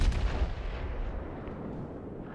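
A heavy naval gun blast from a battleship in the World of Warships game booms loud and low, then rumbles and fades over a couple of seconds.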